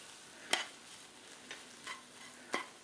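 A hamcake mixture with cream is stirred quietly, with four soft separate scraping strokes spaced across a few seconds against near silence.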